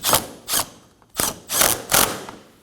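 Ratchet wrench tightening a 10mm bolt on a 2014-2020 Acura MDX during washer reservoir replacement: five quick, close clicking bursts in an uneven rhythm with short pauses between, loud and alone.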